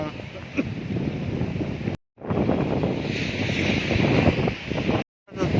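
Wind buffets the microphone on Daman beach in Gujarat after rain, with a broad roar of sea waves beneath; the noise runs loud and continuous, broken by two short dropouts.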